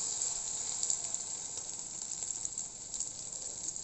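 Egg frying in a pan, a steady bright sizzle running continuously with small crackling pops, close and fairly loud with no talking.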